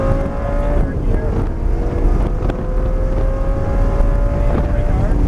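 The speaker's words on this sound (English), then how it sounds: "Full throttle coming off again. Third gear." A Lamborghini accelerates at full throttle in third gear on a track at Grosse Ile Airport, its engine a loud, steady rising drone with wind buffeting throughout, while a voice talks over it.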